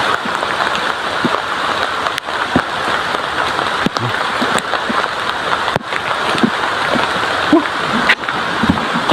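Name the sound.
heavy rain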